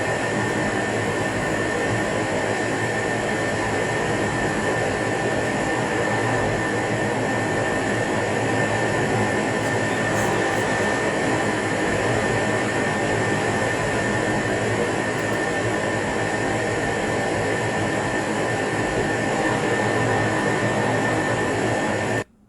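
F-14 Tomcat jet in the DCS flight simulator game taxiing, a steady loud broadband engine roar with a high whine, constant throughout with no talking.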